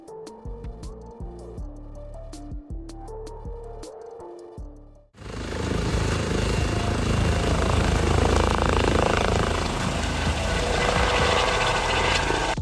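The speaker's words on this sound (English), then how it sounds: "Such a graceful liftoff." Emirates airliner taking off, heard as a loud, sustained jet roar that bursts in abruptly and holds steady to the end, following a brief musical passage.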